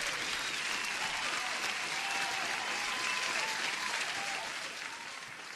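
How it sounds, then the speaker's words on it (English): Sustained applause from an online trading-session audience, dense and steady for several seconds, then easing slightly at the end. "I have to give you an applause before you leave"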